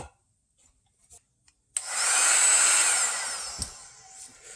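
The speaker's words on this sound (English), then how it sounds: "I think I'll start with the heat gun on that, see if I can peel that off" A heat gun blows hot air at an old amplifier chassis, starting abruptly after a few quiet clicks and holding a steady, close airy roar for about two seconds before easing slightly.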